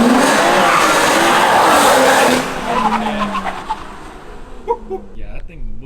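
BMW G80 M3 with a built all-wheel-drive setup launching hard off a brake boost: a loud burst of roaring engine and tire noise for about two seconds, then easing off under voices talking in the car.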